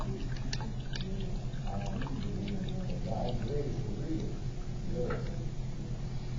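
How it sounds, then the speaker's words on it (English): A paintbrush is swished and tapped in a container of water between watercolor mixes, making light clinks and small splashes at close range with a voice audible underneath. "Okay, I'm going to rinse my brush."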